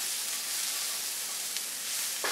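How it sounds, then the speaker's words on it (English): Onions sauté with turmeric in a hot pan, giving a steady, close sizzling hiss that runs unbroken throughout with only a faint tap or two, and no voices. "I'm going to saute these until the onions are translucent"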